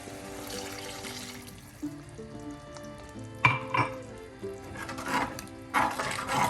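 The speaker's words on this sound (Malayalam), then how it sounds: "ഈ സമയം നമുക്കിതിലേക്ക് ഒരു ഗ്ലാസ് വെള്ളം ചേർക്കാം." A glass of water poured into a simmering tomato fish curry in a Kerala kitchen, brief sizzling and splashing bursts over a quiet background with some tonal clatter, no talking.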